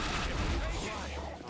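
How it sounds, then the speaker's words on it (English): Rapid laser submachine gun fire in the shooter The Bureau, a continuous loud stream of shots mixed with game effects and low rumble throughout. "this laser submachine gun beats anything we've had to play with earlier."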